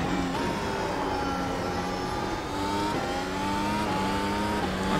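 A Mercedes W12 2021 Formula 1 car in the iRacing simulator, engine note steady and loud with quick pitch drops at each upshift, several gear changes in a row as it pulls hard.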